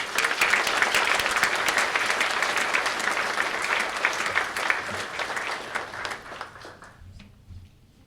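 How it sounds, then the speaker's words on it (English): An audience applauds at a university paramedic program pinning ceremony, dense continuous clapping that stays loud for several seconds, then thins and fades out near the end. "So let's give one more round of applause for everyone who supported us through this journey."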